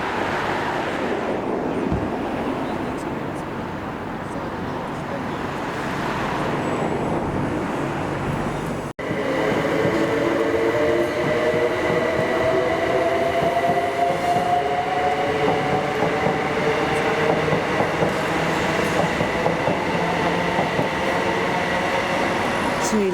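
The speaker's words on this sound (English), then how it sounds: "A Liverpool Street train for some reason." A Liverpool Street train at Upminster Station in winter rumbles past on the rails, moderately loud, its wheel and motor noise rising after a sharp break midway into a steady clattering roll with a faint whine.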